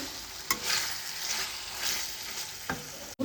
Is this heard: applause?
no